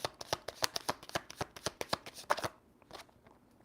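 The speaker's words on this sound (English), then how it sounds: "like almost every time I shuffle" Tarot cards being shuffled by hand, a quick run of crisp, close riffling and slapping bursts in an uneven rhythm that thins out toward the end, fairly quiet with no talking.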